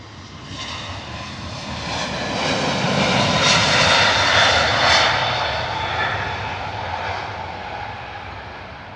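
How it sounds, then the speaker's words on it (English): A JetBlue Airbus A321neo departing on runway 27 right at London Heathrow makes a rising jet engine roar with a whining edge that peaks in the middle and then recedes, with no speech. "Lovely departure there from the 321neo JetBlue."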